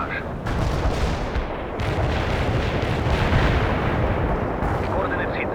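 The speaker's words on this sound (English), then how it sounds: "Launching a barrage." Artillery barrage in the World in Conflict strategy game: dense, loud, continuous rumbling blasts of shells overlapping without pause, forming a heavy wall of explosions.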